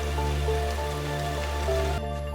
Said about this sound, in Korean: 비가 내리기 시작합니다.